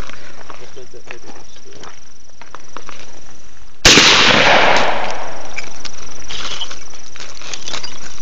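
A single sharp gunshot cracks at an outdoor shooting range, loud and close, with a short ringing decay, while people talk before and after it.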